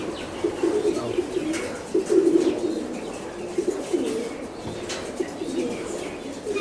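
Racing pigeons cooing softly in a loft, with low throaty coos repeating over a constant noisy background, a few faint chirps and the occasional brief flutter of wings.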